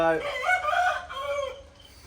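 A rooster crows once nearby, a strained rising-then-falling call that trails off, fairly quiet and with no other sounds around it.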